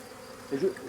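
A honeybee swarm is shaken from a branch into a bucket with short sharp taps during a swarm capture; a soft, close buzzing hum swells briefly in the middle before settling, with no talking.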